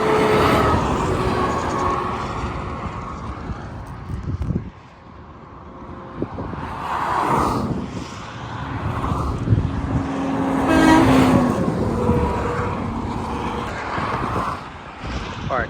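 Kenworth and Freightliner trucks roll past on Interstate 10, their engine and tire roar swelling and fading in a couple of waves, with wind buffeting a nearby microphone throughout.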